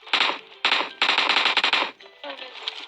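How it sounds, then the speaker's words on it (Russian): Rapid automatic gunfire in a forest shooter video game, loud close bursts of machine-gun fire in three volleys followed by quieter, more distant shots. "Там сзади стреляют."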